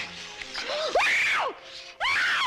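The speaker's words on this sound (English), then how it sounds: "Stop screaming!" A woman screams in a Western drama scene, two long, loud, rising-and-falling cries separated by a short gasp, close and raw.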